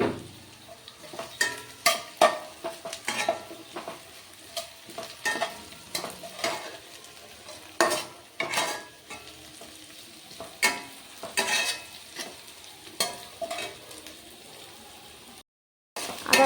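Ginger and cumin seeds frying in oil with onion for a cabbage dish, a utensil stirring in repeated scraping strokes over a crackling sizzle, close and steady, with a brief silent gap near the end, no talking.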